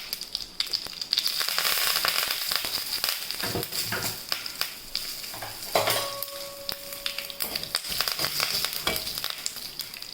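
Hing, mustard seeds and curry leaves hit hot oil and sizzle loudly and continuously nearby, with crackling pops and spoon scrapes as the tempering for kachi kadi is stirred.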